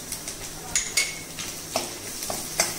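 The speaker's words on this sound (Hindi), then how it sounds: "लहसुन को थोड़ा सा हम हिला लेंगे अच्छे से" Garlic sizzles in a hot pan while being stirred for veg momos filling, with scraping utensil strokes and occasional sharp metallic clinks punctuating a steady low fry.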